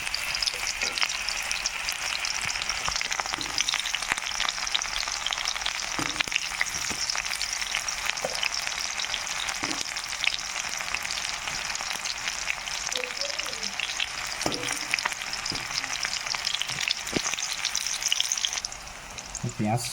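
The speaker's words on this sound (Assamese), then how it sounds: "তেল গৰম হ'ল এতিয়া তাৰপিছত মাছটো ইয়াতে" Fish fries in hot oil for an Assamese recipe, a loud, dense, continuous sizzle with scattered pops and occasional clinks of a utensil, steady throughout and close up.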